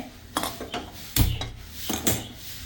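A metal pan set down on a gas stove gives a few clattering knocks, with one heavier clank near the middle, close and fairly loud with no talking.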